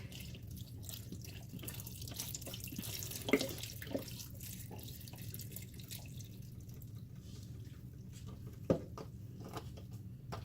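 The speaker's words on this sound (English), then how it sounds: "Next thing you'll add is the chicken broth" Chicken broth being poured into homemade potato soup in a kitchen, a soft, steady liquid trickle running quietly throughout with a few brief clinks.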